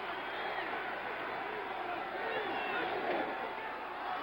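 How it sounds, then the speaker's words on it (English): Dense stadium crowd noise from fans at a Chicago Bears at Minnesota Vikings football game, urging on the Vikings defense; a steady, continuous roar without distinct peaks. "Crowd imploring the Minnesota defense to dig in and stop them."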